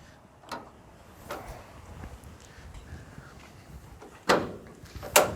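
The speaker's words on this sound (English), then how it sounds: "Open up all these doors for you." Doors on a Chevy cutaway truck being opened one after another, with scattered clicks and latch knocks followed by two louder, sharp door bangs near the end against a quiet background.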